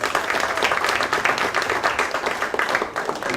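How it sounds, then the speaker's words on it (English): Audience applause at a Greenville Noon Rotary meeting: dense, steady clapping from a roomful of people, loud and continuous throughout with no pauses, rising and falling only slightly. "Let's give him a round of applause for that."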